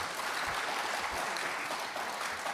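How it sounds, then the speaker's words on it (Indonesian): Sustained applause from a meeting audience in a parliamentary session room, a continuous, somewhat distant and fairly quiet wash of many clapping hands with a few low thumps beneath and no talk. "tepuk tanganlah Bapak dan Ibu dulu."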